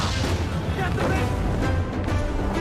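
Cannon fire rolls continuously during a ship battle in Assassin's Creed Black Flag, a dense, loud wash of overlapping booms and blasts with shouting voices woven through.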